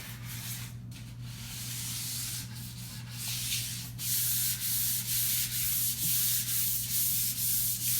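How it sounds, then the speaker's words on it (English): Steady hand sanding of oak kitchen cabinet doors with fine-grit sandpaper, a continuous scratchy rubbing with rhythmic back-and-forth strokes growing louder and more regular toward the end, over a low steady hum. "sanding both sides of the doors with a real fine grit sandpaper"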